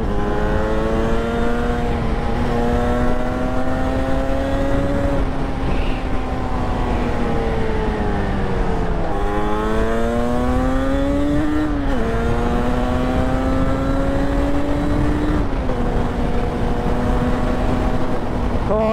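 A Yamaha RD350 YPVS two-stroke motorcycle rides along, its raspy engine loud and close, pitch climbing through each gear then dropping at the shifts, several times in a row, with a steady wind rush underneath.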